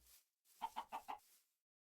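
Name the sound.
chicken clucking in Minecraft video game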